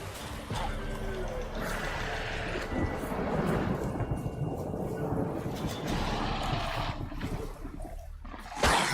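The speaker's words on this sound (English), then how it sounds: "Velen's storm" A thunderstorm in Velen, in the video game The Witcher, rumbles with rolling thunder over steady rain, loud and continuous, swelling and fading across the stretch with a heavier crack near the end.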